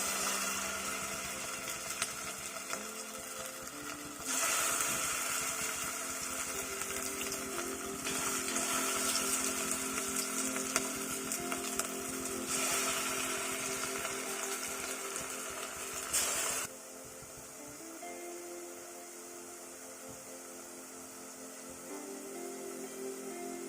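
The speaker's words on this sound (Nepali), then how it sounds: "अब चाहिँ म यो पकौडालाई तेलमा फ्राई गर्दैछु" Potato chop pakodas frying in hot oil over a medium flame give off a steady, rain-like sizzle that swells louder through the middle stretch, then settles to a quieter, even crackle.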